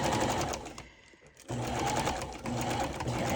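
A sewing machine stitches around the edge of a ballerina junk journal cover, a loud steady whirring hum that stops briefly and then starts again at full speed.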